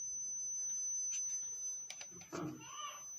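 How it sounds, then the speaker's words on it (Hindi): Multimeter continuity buzzer sounding while an AC contactor is tested, a steady high-pitched electronic tone running throughout, with a few clicks and brief handling noises near the end. "मीटर देख लीजिएगा कुछ रजिस्टेंस शो कर रहा है और बजर भी दे रहा है साथ"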